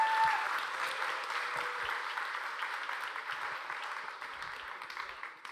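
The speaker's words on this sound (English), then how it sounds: "give them a round of applause" An audience applauds a small group at an Alpha course session, a fairly soft, steady patter of clapping from a modest crowd that fades gradually over several seconds.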